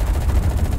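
Gunfire from a Pz. 38(t) F tank in the WWII shooter game Enlisted, a dense, continuous rattle of shots heavy in low rumble, sustained and loud throughout with no voices.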